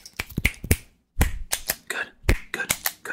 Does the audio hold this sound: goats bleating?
no